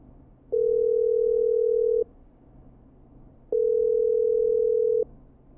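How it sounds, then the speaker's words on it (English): A telephone dial tone from the video game Killer Frequency: two clean, steady tones of about a second and a half each, separated by a short gap, over faint background hum. "I'm dialing"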